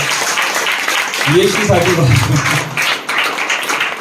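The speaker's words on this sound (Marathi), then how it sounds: "जोरात टाळ्या वाजवा" A church congregation claps loudly and rhythmically during a sermon, with a preacher's voice speaking over the steady beat.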